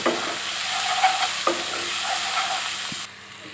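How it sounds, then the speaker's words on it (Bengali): Ground spices with turmeric and salt stirred and fried in a pan, a steady close sizzle with scraping strokes and a few sharp spoon knocks against the pan, no voices. "এবারে সব কিছু একসাথে আবারও একটু নেড়ে কষিয়ে নেব"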